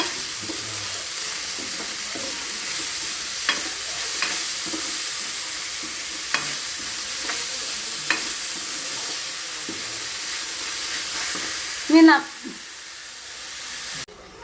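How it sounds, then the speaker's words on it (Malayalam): Potato masala filling for Kerala-style masala dosa frying in a pan, a continuous hissing sizzle with occasional faint stirring taps and a brief louder clatter near the end. "ഇത് നമ്മൾക്ക് നല്ലതുപോലെ ഒന്ന് മിക്സ് ചെയ്യാം"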